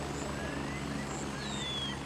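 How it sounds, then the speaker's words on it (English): A military helicopter in the video game Gray Zone Warfare flies over, its rotor chop a steady, moderately distant drone that holds level throughout with no speech. "Another chopper, is that? Is that landing? Sounds like it."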